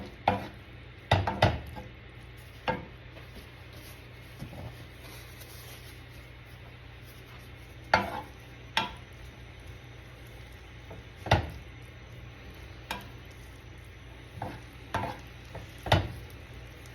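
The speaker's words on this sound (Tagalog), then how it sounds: "sinosaute natin ang ating corn sa butter po natin" Corn kernels sautéing in butter in a pan give a low steady sizzle, broken by sharp scraping clicks and knocks of a utensil stirring every few seconds.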